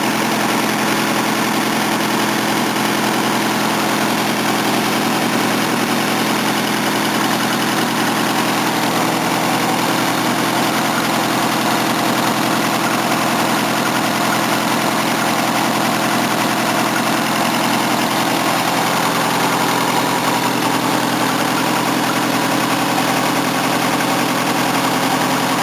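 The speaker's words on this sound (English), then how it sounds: "Damn that exhaust leak. It'd be nice and quiet otherwise." A rebuilt 230 engine idles continuously, loud and close. The idle has a broad, hissy roar from a leaking exhaust and keeps an even level throughout, with no talk.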